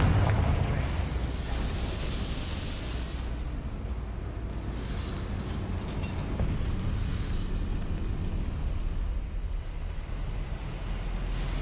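A Confringo fire spell detonates in Hogwarts Legacy, a deep rumbling explosion that rolls on as a sustained, heavy roar with bursts of crackle, loud and continuous throughout.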